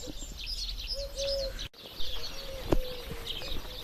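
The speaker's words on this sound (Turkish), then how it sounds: "bir çeşit güvercin var. Siyah." Several soft calls and chirps from a black pigeon repeat against a steady outdoor hum, with one sharp tap partway through.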